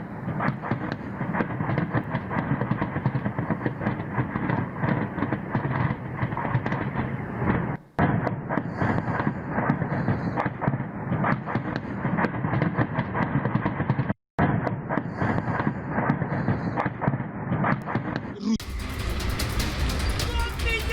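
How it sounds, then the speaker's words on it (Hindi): Bombing and rocket fire in the Russia-Ukraine war in Kyiv and Kharkiv: a loud, continuous roar of blasts and rumbling runs nearly throughout, broken by two brief silences, with a harsher burst near the end. "किस तरह से बमबारी लगातार हो रही है। रॉकेट्स जो है वो लगातार दागे जा रहे हैं यहाँ पर।"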